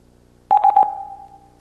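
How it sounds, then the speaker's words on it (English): A secure SIP phone sounds a tone after the Go Clear button is pressed: a quick burst of three or four beeps runs into a steady, fading single tone, alone and close. "Stephen, press your Go Clear button"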